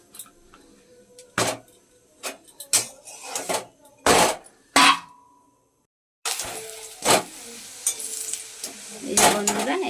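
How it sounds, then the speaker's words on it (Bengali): Spinach paratha fries in oil in a pan, first with sharp, scattered clinks and scrapes of a utensil, then a brief hush, then a steady, close sizzle punctuated by more knocks against the pan. "একটা একটা করে ভেজে নিতে হবে তেলে।"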